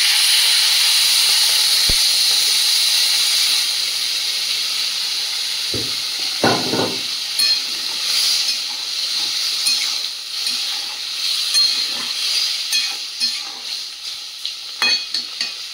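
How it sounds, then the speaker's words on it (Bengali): Water goes into a pan of sizzling vegetables with a loud, steady hiss that slowly eases. Scattered stirring clatters and knocks follow, with no talking. "সবজিগুলো ভালো করে কষিয়ে নিয়েছি, দিয়ে দেব জল।"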